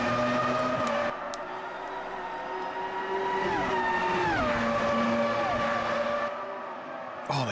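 High-revving V10 Formula 1 race car engines in Automobilista 2 at Spielberg, a loud continuous scream with gear changes and pitch swoops as cars pass close by.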